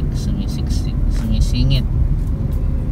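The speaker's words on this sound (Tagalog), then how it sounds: "Medyo traffic po. Sabagay, lagi naman traffic po dito." Congested town road traffic, with tricycles and jeeps, is heard from inside a Suzuki S-Presso AGS 2024 compact car as a constant engine and road hum with passing vehicles. A voice speaks over the noise.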